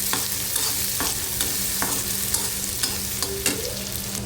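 Finely chopped onion frying in hot oil with curry leaves for a dry prawn, brinjal and potato bhaji, a continuous close sizzle punctuated by regular spatula scrapes and stirring clicks.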